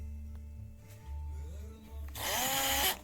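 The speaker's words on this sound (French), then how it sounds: "ici avec la perceuse, petite perceuse" A small electric power drill bores holes where glue sits on a car dashboard, with a rising, whining motor buzz that swells loud and harsh near the end.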